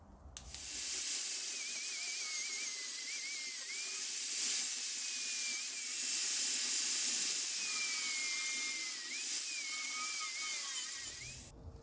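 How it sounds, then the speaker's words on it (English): An angle grinder with a grinding disc working the counterweights of a Chrysler 360 crankshaft, a steady high-pitched whining screech with wavering pitch that holds for about ten seconds before the tool winds down. "Then we can get the grinder out. Or well, swap to the grinding disc rather than the cutting disc."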